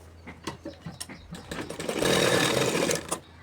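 A sewing machine runs in a steady whir for about a second while stitching a kurti with buckram stuck to the fabric, preceded by short clicks and handling noises, close and moderately loud.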